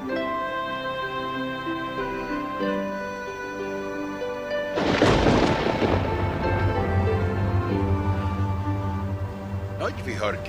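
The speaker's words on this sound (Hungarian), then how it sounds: "Vihar készül." Thunder crashes loudly about halfway through, a broad rumbling burst from an approaching storm, with a steady musical score and sustained tones running underneath before and after it.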